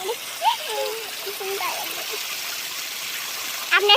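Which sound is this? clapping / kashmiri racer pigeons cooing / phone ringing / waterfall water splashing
waterfall water splashing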